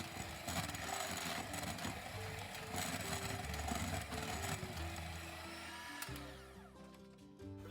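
Electric mixer whirring at high speed through brownie batter, a steady, strained motor whine with rattling that runs continuously before cutting off near the end.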